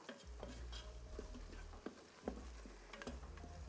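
Spices, curry leaves and turmeric fry in a pan for a Telangana boti curry, with a soft sizzle under scattered clinks and scrapes of a stirring spoon, quiet and close.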